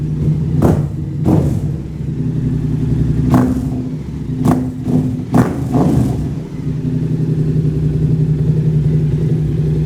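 A 2022 Yamaha R7 motorcycle with a full titanium and carbon Titan GP2 exhaust idling with a deep, uneven burble, punctuated by several short throttle blips that rise and fall, close and fairly loud throughout.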